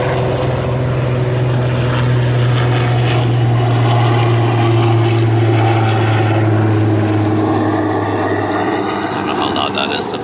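A medical helicopter flying overhead makes a steady, loud rotor and engine drone that holds throughout, with a voice heard at times beneath it.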